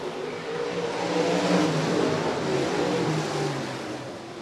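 SLMR late model stock cars racing at Rapid Speedway, a steady, dense roar of several engines at full throttle that swells slightly and then eases, loud and continuous with no talking.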